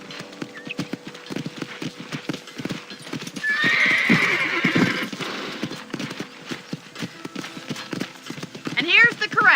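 Hooves clip-clop in a steady trot while a horse whinnies in the video game Red Dead Redemption, all close up, with a voice speaking over the sounds.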